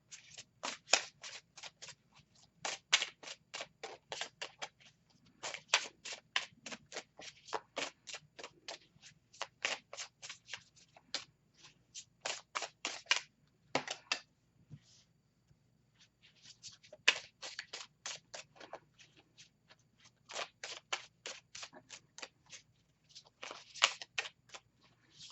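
Tarot deck being riffled and shuffled by hand, a long run of quick crisp card bursts in rhythmic groups, up close with no talking.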